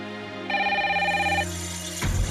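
A telephone ringing loudly and close by in a Hindi TV serial home scene, a steady electronic tone sustained for over a second, then cut off by another sound.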